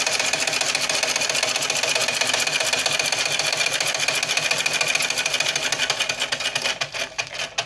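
A sewing machine stitches bobbin elastic onto a dress in a fast, even, continuous clatter, loud and close, running alone until it slows and stops at the very end.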